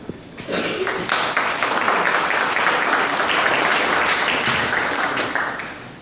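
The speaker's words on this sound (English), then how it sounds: "let's give a warm applause to our readers and the band" Warm applause from the audience at a Human Rights Day reading at the Schomburg Center in Harlem, honouring the readers and band; dense, steady clapping rises quickly and holds at full strength for several seconds before easing slightly.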